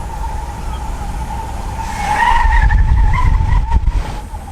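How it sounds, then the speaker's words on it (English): A 1960s luxury car's tires squeal loudly in a sustained, wavering screech during a burnout over a steady engine roar, swelling louder midway and staying harsh to the end. "Listen, it's just still smoking the tires. Still doing a burnout."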